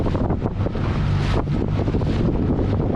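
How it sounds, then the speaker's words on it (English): Wind buffets the microphone over choppy offshore seas from a fishing boat, a steady loud rushing with waves slapping underneath throughout. "The seas are a bit choppy."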